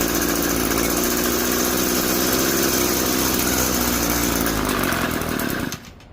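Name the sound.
Echo SRM-2320T string trimmer engine running after choke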